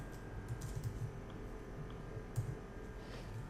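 Typing HTML code on a computer keyboard, with soft, quiet, steady key clicks in an irregular rhythm and a slightly louder tap near the middle, heard close with no talking.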